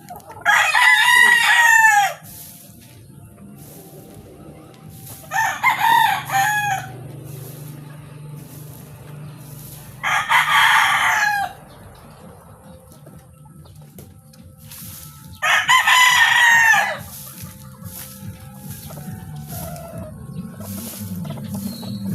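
Roosters and hens at a small backyard poultry farm crow in four loud, drawn-out calls spaced a few seconds apart, with soft clucking and rustling in between.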